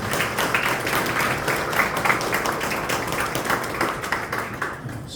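People at a church press conference held in a broadcasting station's chapel give a dense, steady round of clapping that fades slightly toward the end.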